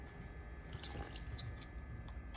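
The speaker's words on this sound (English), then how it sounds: "Gonna add a little bit of pasta water." Pasta water is poured into pesto sauce, a short, quiet splash and trickle of liquid in the middle of a low, steady kitchen background.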